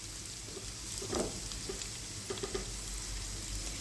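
Onion, curry leaves and ginger fry in a pan for egg thoran, a faint steady sizzle with a couple of brief louder crackling bursts as they are stirred, no voices.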